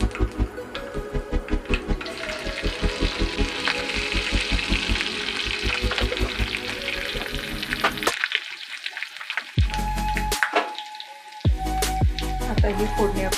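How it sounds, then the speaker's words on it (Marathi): Mustard seeds and cumin splutter in hot oil, giving a dense run of sharp crackles and pops up close, which thin into scattered bursts before stopping. "राई जिरं चांगलं तडतडलं की त्याच्यामध्ये आपण टाकणार आहे हिरवी मिरची"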